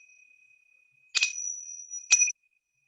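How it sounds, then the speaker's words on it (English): Two clear strikes of a meditation bell, about a second apart, each leaving a sustained ringing tone that fades, heard alone in near silence. "this is the last bell which is taking you out."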